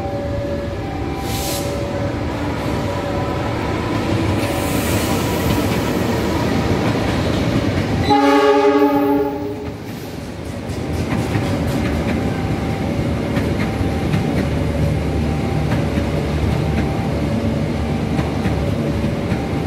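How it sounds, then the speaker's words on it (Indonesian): A Cikuray passenger train pulls in from Garut at a station, rumbling steadily, with one loud, harmonic horn blast of about two seconds midway and the train noise continuing afterward. "Dari timur jalur 2 kereta Cikuray dari Garut."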